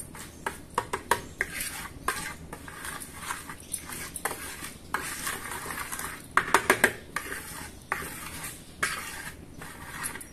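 Ground spices and oil being mixed together in a bowl, heard as a string of sharp utensil clinks and scrapes against the dish with irregular bursts, close and fairly loud, no talking.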